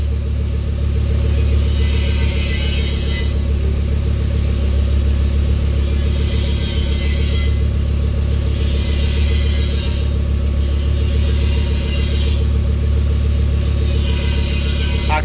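A car engine on a fuel system upgrade with a surge tank runs at a loud steady rumble nearby, its pitch swelling in several revving bursts between idle stretches.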